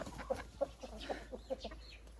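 Backyard hens cluck in a quick series of short, soft calls at close range, with no talking.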